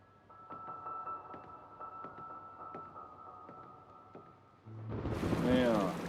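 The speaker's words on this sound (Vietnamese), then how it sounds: "Vừa nãy còn nắng chang chang, chớp mắt cái đã mưa ngay được." Sudden rain breaks out in a drama scene, a broad hissing wash of falling drops that swells up loud after a quieter stretch of low background tones.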